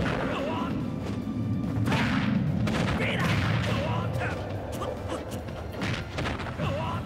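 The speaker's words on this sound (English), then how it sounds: "Gotta hold down that smash attack." Terry Bogard landing a charged smash attack in Super Smash Bros. Ultimate, with a series of heavy punchy hits and crashes over continuous loud fight noise, and a player talking throughout.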